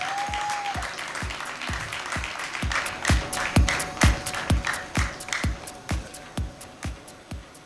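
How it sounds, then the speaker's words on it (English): An audience at a district conference applauds a past governor, building into loud rhythmic unison clapping with strong regular beats, with faint talk underneath. "Please give a big round of applause."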